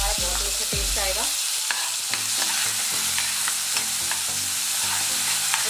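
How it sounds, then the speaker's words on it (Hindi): Rice frying in ghee in a kadhai while being stirred, with a steady close sizzle and scattered scraping clinks of a spoon against the pan throughout. "घी डाल के चावल से थोड़ा फ्राई कर दूंगी"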